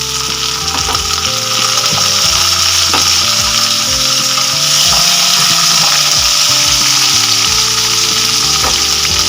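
Ginger, a small tomato and horse gram roasting in a hot pan for Tamil kollu thuvayal, with a steady sizzle and frying hiss throughout and occasional stirring scrapes over it.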